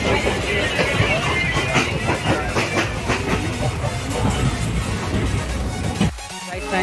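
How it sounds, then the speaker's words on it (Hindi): A passenger train rolls into Lucknow's Charbagh railway station, a loud steady rumble with rhythmic clattering of wheels on track that drops off sharply near the end as it slows. "कुछ ही देर में हम लोग स्टेशन पे हमारी ट्रेन रुक जाएंगी"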